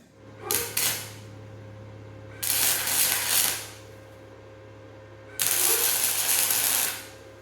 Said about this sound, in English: Let's get that welded in.